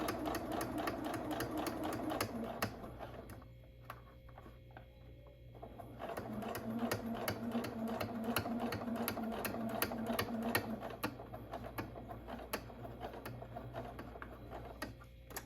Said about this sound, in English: I'm going to sew right through it.